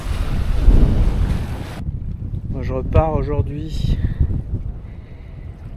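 Wind buffets the microphone and sea swell rolls around a sailboat off the Greek islands of Lemnos, Lesbos and Chios, loud and rushing at first, then easing as someone speaks over the water noise.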